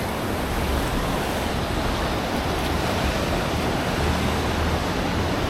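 Choppy ocean surf at My Khe Beach in Da Nang, Vietnam, a steady broadband wash of breaking waves with wind rumbling across the microphone, no voices.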